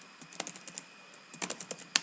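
Keystrokes on a computer keyboard while typing a document in Microsoft Word, a light irregular patter of separate clicks with a few louder taps, close and alone with no talk.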